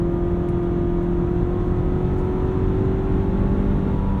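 A 2017 Cadillac CT6 with a 4-cylinder engine accelerates on the highway, heard from inside the cabin. A steady, moderate engine hum and road whir build gently and continuously, with no talk.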